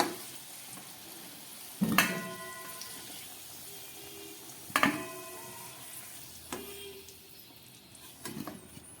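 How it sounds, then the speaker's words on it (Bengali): Potatoes fry in oil in a pan with a soft, low background sizzle, broken by a few sharp utensil knocks and scrapes spaced several seconds apart. "আলুগুলো খুব ভালো করে ভাজা হয়ে গেছে।"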